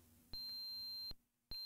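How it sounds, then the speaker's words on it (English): Electronic radar beeps from a Commodore VIC-20 video game sound as steady, high-pitched tones, one long tone followed by the start of another, clear and alone over a faint background hum. "We got a beep on a radar."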